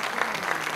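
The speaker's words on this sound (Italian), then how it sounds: "Direi un grande applauso a Costanza" A brief, dense burst of audience applause at a music performance, continuous crowd clapping heard alone.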